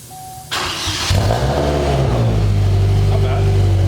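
A Chevrolet Cobalt SS with a 3 inch exhaust fires up and revs close by, a sharp burst settling into a loud, deep, steady rumble.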